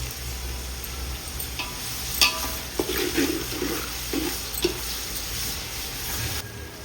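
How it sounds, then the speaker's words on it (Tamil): Onions sautéing with salt in a pan, a low sizzle under several distinct stirring scrapes and clatters from the middle onward, fairly quiet and close, the hiss dropping away just before the end. "வெங்காயம் சீக்கிரமாக வதங்கணுங்க, நான் அதில் கொஞ்சம் உப்பு சேர்த்துக்கிறேன்."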